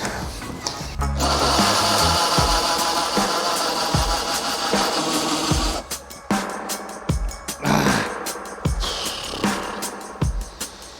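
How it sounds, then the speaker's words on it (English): A loud electric drill whines steadily, grinding against metal on a camper van, with the motor pitch shifting and brief pauses between bursts near the end. "It's not happening, guys. Not with that drill bit."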